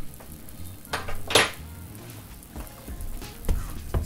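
Boiled plantains are mashed with pats of butter in a pot, giving irregular metallic scrapes and clanks of a utensil against the pot, with a sharp bright clank near the middle and softer knocks around it.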